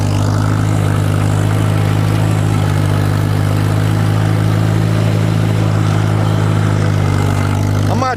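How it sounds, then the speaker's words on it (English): A riding lawn mower engine drones steadily and loudly at close range, with a constant low, throbbing hum and no talk. "the mower."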